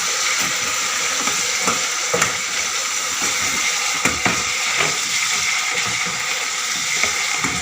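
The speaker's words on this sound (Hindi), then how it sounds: "इसको मिक्स करेंगे" Chicken Manchurian is stirred in a hot pan, a steady sizzle of frying sauce with occasional scraping and clinking strokes of a spoon against the metal, close and continuous.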